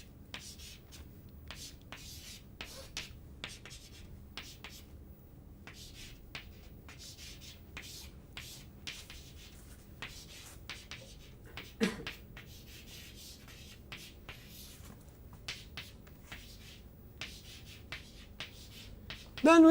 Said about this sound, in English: If I write down the Navier-Stokes equation